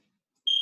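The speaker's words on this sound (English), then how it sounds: "Gonna set the timer." A single high electronic beep from an exercise timer sounds abruptly after a moment of silence, starting a two-minute hold in a fitness class, loud, steady and close.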